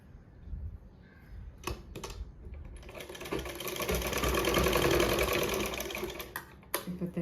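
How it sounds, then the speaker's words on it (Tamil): A sewing machine stitches piping onto a jacket in a steady, close run of rapid needle clatter, with brief pauses and handling knocks between bursts. "இதை எடுத்துட்டு இப்படி வச்சு தைங்க"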